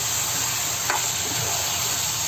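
Chicken with yogurt and powdered spices is stirred in a pan over high heat, giving a constant close sizzle with a brief scrape of the spoon partway through.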